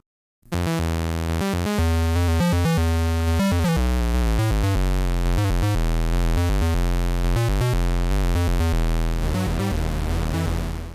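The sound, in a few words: synthesizer oscillator sawtooth then square wave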